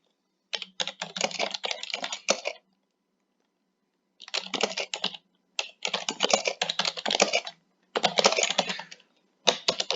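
Rapid typing on a computer keyboard while entering header text on a website, in dense bursts of clicking keystrokes separated by short pauses, close and clear with no talking.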